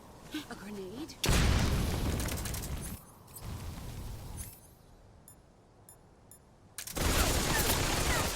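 Grenade blast in Metal Gear Solid Delta: Snake Eater, a sudden loud, broad explosion that roars and slowly decays, followed by a quieter lull and then a second loud burst, with a voice briefly heard before.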